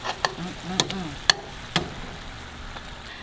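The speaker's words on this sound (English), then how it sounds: "I let our tofu and the teriyaki sauce cook together for 2 minutes" Tofu sizzles gently in teriyaki sauce with ginger and garlic, a soft steady frying hiss broken by a few sharp utensil clicks against the pan.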